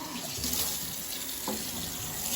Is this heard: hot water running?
yes